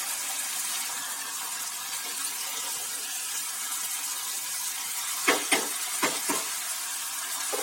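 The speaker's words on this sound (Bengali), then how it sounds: "মাঝে আমি এটাকে একটু নেড়ে নিচ্ছি" Hilsa fish cooking in a covered pan gives off a steady soft hiss of frying oil, with a few short scraping stirs near the end; there is no talking.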